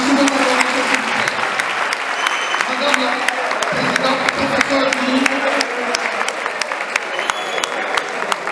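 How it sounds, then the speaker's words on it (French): An audience applauds at an investiture ceremony for a complaints management unit president, steady crisp clapping from many people with voices murmuring beneath it. "On va applaudir."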